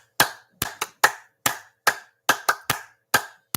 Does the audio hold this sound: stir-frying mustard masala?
no